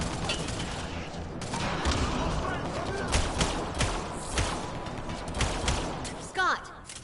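Video game gunfire from Mass Effect Andromeda crackles in scattered bursts and single shots amid chaotic combat noise, fairly faint, with voices shouting over the fighting.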